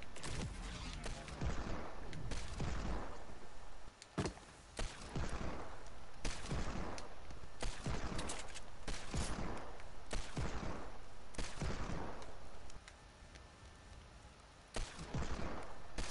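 Rapid Fortnite gunfire aimed at player-built structures, repeated sharp bursts and volleys of shots in a steady barrage, loud and close, continuing across the whole stretch with brief pauses.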